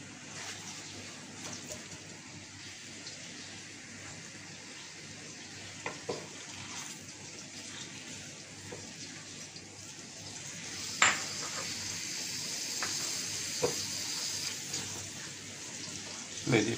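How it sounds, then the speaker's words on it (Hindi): Chopped onions sizzle in hot oil while minced meat with pickle masala (achar keema) is being cooked, a steady, faint frying hiss with occasional clinks of a utensil against the pan. "ऑयल हीट अप हो गया, तो अब इसमें मैंने अनियन या प्याज जो है वो शामिल कर दिया।"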